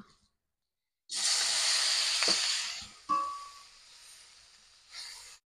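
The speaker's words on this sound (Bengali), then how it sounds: "এবার আমি চিংড়ি মাছগুলো ভেজে নেব।" Prawns fry in a hot pan with close, bright sizzling that comes in loud bursts, with a couple of brief clinks between the surges.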